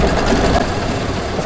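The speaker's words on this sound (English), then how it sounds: "This is the tack down stitch for the batting." Embroidery machine sewing a tack-down stitch through quilt batting, a steady close mechanical whir and rapid needle chatter running without pause.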